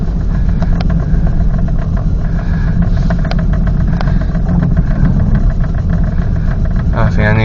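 A Dodge car engine runs roughly with a steady mid-range drone and faint revving throughout, close and loud, with a brief voice near the end.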